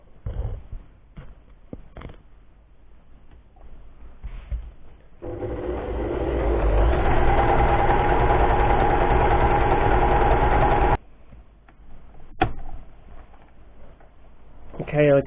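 Janome My Excel 18W sewing machine, whose motor may be failing, runs a stitch for about six seconds as a steady, close mechanical whir and rapid needle chatter, with short clicks and handling sounds before and after.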